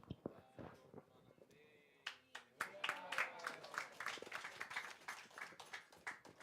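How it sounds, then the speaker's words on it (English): An audience claps along during kirtan at a Janmashtami morning program in a small temple: sharp, fairly rhythmic handclaps build up and continue steadily, mixed with chanting voices and ringing tones. "thank you for clapping"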